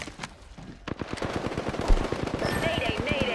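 Rapid automatic gunfire in the battle royale game Apex Legends, a steady stream of close, punchy shots that picks up after the first second and runs to the end, with faint game voice lines mixed in.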